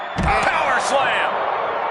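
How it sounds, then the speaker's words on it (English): A power slam in the WWE 2K26 wrestling video game lands as a sharp thud near the start, followed by a swelling arena crowd roar and a commentator's voice over it. "Power slam!"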